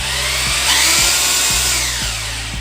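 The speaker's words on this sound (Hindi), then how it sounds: "ड्रिलिंग कर रही है" An Ingco rotary hammer drills steadily up close, a loud continuous motor whine with rhythmic hammering pulses about twice per second, nothing else over it.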